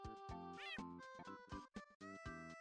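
A comical, exaggerated cartoon meow sound effect from a Forsaken game skin, several tonal meows in a row that rise and fall in pitch, clean and alone.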